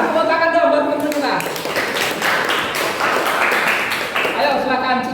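Children in a classroom clap for their classmates, a dense run of claps lasting several seconds and close by, with young voices and chatter mixed in.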